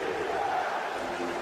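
Crowd cheering in a basketball arena during a playoff game: a dense, steady roar of many voices that stays loud and unbroken throughout.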